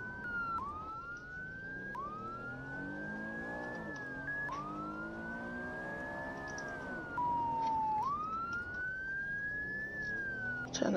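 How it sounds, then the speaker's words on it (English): A wailing emergency vehicle siren in the video game Maple County rises and falls in long sweeping cycles, loud and continuous over a low rumbling engine. "Turn the siren off."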